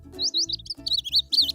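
A cartoon baby bird chirps in quick, bright, high tweets over a soft, steady background tone, lively and close with no talking.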